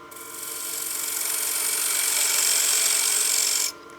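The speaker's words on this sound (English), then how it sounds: "I can come in here with my skew" A skew chisel shears wood on a spinning lathe while turning a utility box, a steady bright hiss that swells gradually over a few seconds and then cuts off abruptly.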